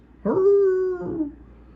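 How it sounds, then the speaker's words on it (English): A single long, tonal howl rises and holds steady for about a second, then trails off, with a soft quieter tail; no talking. "howling from a distance"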